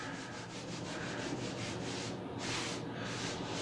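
Hand rubbing across the face of wrinkled velvet drapery fabric, a steady close brushing swish that repeats in quick strokes and swells briefly louder near the end, with no talking.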